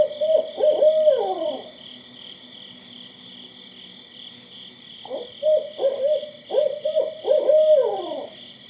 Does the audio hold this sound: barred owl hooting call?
yes